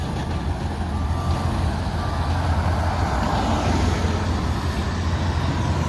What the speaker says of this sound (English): And some more dump trucks coming by.